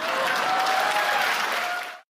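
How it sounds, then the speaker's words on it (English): Loud, dense applause from a large audience in a conference hall, sustained evenly for about two seconds before cutting off abruptly, with no speech over it. "met with a storm of applause in the hall"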